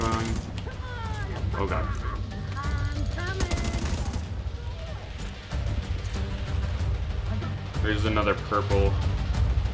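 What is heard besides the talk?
gunfire in the video game The Division 2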